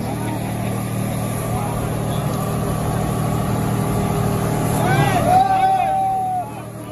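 John Deere 5310 4WD tractor ploughing a field with its tyres slipping, a continuous low diesel rumble throughout, joined by brief whistling squeals near the end as people talk over the engine.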